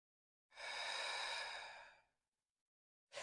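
A deep breath taken during a hatha yoga practice, one long airy breath swelling and fading over about a second and a half, close and quiet, followed by silence and the start of another breath.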